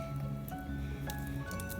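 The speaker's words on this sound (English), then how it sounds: "Okay, just pour over my batter." Thick batter poured over chicken cobbler in a baking dish, with soft squishy plops and drips close by in a short, uneven run.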